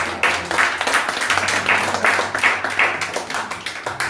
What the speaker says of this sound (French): On acclame pour l'apôtre Tibassa